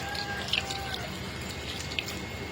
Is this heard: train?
no